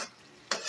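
A pot of sardines and cabbage being stirred, with a faint scrape of the spoon followed by a brief, louder swish as the mixture is moved around.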